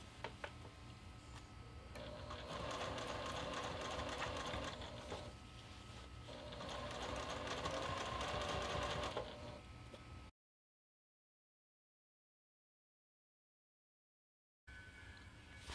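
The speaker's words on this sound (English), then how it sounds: "you're going to stitch that down 1/4 inch to attach your binding to the top of your bag." A sewing machine stitches binding onto the top of a fabric bucket bag, with steady mechanical whirring in two longer runs separated by a short pause, then a stretch of silence before the machine starts again briefly.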